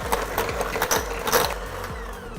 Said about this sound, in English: I'll take a hand mixer and beat that butter until it is almost white in appearance